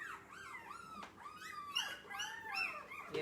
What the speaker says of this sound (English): We have puppies next door.